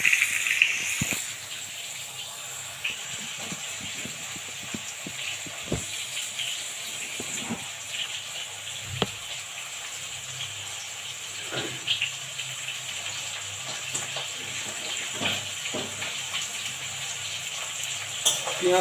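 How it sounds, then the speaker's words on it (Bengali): Onion sizzles steadily in hot oil in a pan for a rustic home-style country chicken curry, a soft continuous frying hiss with occasional clinks of stirring. "পেঁয়াজটা গরম হয়ে আসছে"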